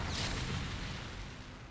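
A nuclear strike detonates in StarCraft, a loud deep broadband boom that rolls on and fades slowly over a couple of seconds, with no voices over it.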